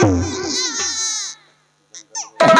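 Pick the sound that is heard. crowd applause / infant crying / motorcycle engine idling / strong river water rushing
infant crying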